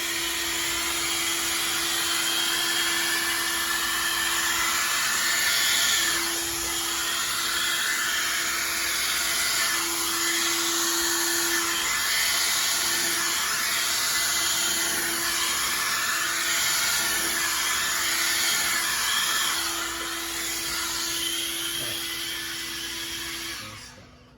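Steady loud blast of air from a blower or compressor nozzle played over a wooden clock face for a bloom paint technique, a continuous hiss and whine lasting the whole stretch and fading at the end.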